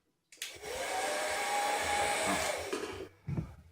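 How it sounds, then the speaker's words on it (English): Heat gun blowing steadily for about three seconds while covering a PT-20 model airplane, a loud even whoosh that cuts off abruptly, followed by a brief handling clunk. "We get our heat gun."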